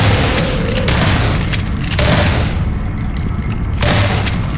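Gunfire in the video game Half-Life 2, a steady run of heavy booming shots with rumbling low thuds, loud and continuous throughout.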